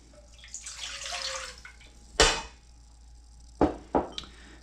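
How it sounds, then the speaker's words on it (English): Water pours into a saucepan on a home kitchen stove for mac and cheese, a steady splashing stream for about two seconds, then a few sharp clanks and knocks of the pan close by. "All right, so we are going to add our water."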